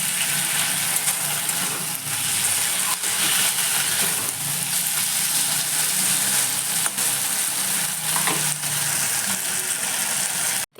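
Curry gravy simmering and frying down in a pan: a steady, even sizzling hiss that runs unbroken throughout, close and fairly loud, with a few faint clinks and no talk.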